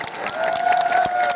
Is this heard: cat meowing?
no